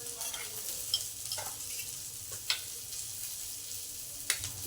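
Onions and tomatoes frying in a pan for a mung bean dish, a steady sizzle broken by a few sharp stirring clicks, close with no talk.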